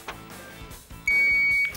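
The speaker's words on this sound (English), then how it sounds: "Don't press your buzzers until I've exposed the name of the car." Quiz buzzer on a car-identification game show, a single sustained electronic beep cutting in sharply midway and holding for about half a second after quieter studio rustle.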